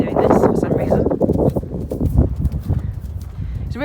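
Horse hooves clip-clop at a canter during a flying lead change, fairly close and rhythmic, with a voice talking over the footfalls throughout.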